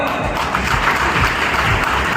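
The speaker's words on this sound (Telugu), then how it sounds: "ఒక్కసారి చప్పట్లో" Audience at a Singareni job fair event in Kothagudem clapping together, dense steady applause throughout, loud and close with no break.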